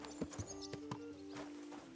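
Horse hooves clip-clop at a walking pace in Kingdom Come: Deliverance II, a handful of evenly spaced soft thuds over a quiet background with a faint tonal hum.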